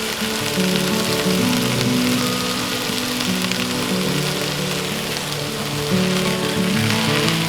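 Drained and rinsed black beans cooking with salsa verde in a pan give off a steady, loud, close sizzle and bubbling hiss that runs unbroken throughout, with no talking.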